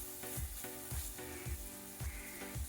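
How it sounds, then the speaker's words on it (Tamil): Tomato and green chilies sautéing in a pan for a mutton biryani, with a close steady sizzle and rhythmic stirring scrapes coming roughly every half second. "இப்போ நம்ம தக்காளி போட்டுக்கலாம் ரெண்டு பச்சை மிளகா போட்டுக்கலாங்க நல்லா வதக்கி கொடுப்போம்"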